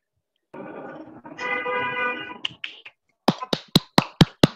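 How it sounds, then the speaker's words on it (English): Online session participants unmuted: a brief tonal, honk-like electronic sound, then a handful of sharp claps or snaps in a quick, uneven burst of about six strikes. "give a big clap to Veronica."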